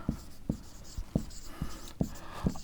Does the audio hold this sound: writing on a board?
yes